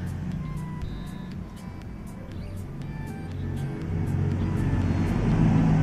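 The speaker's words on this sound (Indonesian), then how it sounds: "sorry ya kalau dengar suara mobil atau motor, karena memang studioku, studio HNS itu benar-benar ada di jalan utama" Cars and motorbikes run along a busy main road outside a studio, a steady low rumble of passing engines that grows louder toward the end, with faint beeps and horn-like tones over it.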